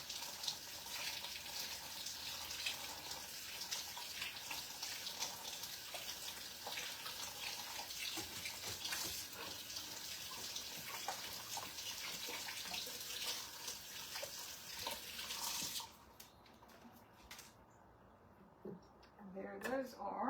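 A kitchen tap runs while cucumbers are rinsed under it, giving a steady, close rush of water for most of the time. A voice talks over it, and then the flow stops, leaving a quiet room.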